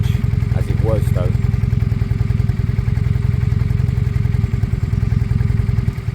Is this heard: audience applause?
no